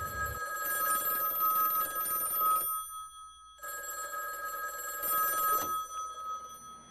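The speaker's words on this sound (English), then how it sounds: "to hear the phones ringing off the hook" A telephone bell rings in two long bursts with a short silent gap between them, loud and fairly close, with no talking.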